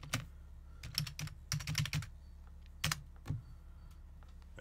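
Computer keyboard typing a short command, a few quick clusters of soft key clicks with pauses between, close and fairly quiet in a still room.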